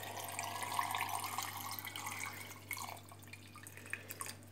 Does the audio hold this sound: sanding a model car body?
no